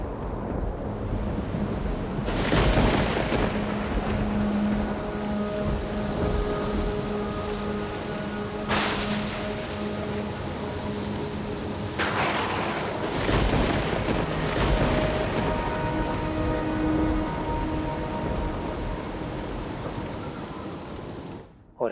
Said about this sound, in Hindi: अचानक से मौसम खराब हो गया। तेज तूफान, आंधी,